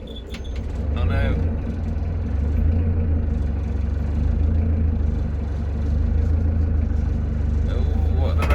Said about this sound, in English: It's time for the evening engine turn on.